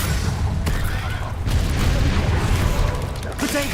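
A Confringo fire spell explodes during a fight in the video game Hogwarts Legacy, a dense, loud, rumbling blast that fills the short moment, with a voice underneath.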